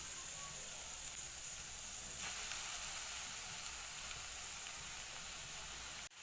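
Steady sizzling of a ground paste of red chilli, salt and tamarind frying in hot oil, a continuous close crackle with no talking.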